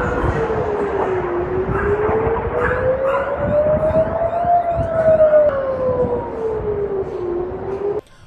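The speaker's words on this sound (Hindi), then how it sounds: "हवाई हमलों के सायरन बजते हैं" Air raid siren wailing in Israel, a loud rising and falling tone that sweeps up and down steadily over several seconds, continuous and fairly near, then cutting off abruptly at the end.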